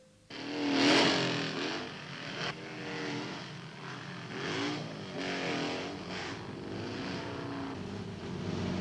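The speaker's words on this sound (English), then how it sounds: "Some young men want the violence and sound of motorcycle scrambles." Motorcycle scrambles engines rev and roar in a loud, close blast that then settles into a steady, wavering drone of several machines, with no talk.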